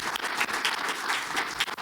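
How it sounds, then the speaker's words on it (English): Audience applause at an education and workforce summit, a short stretch of moderately faint, steady clapping from a seated crowd. "let's please give another round of applause for our great California treasure"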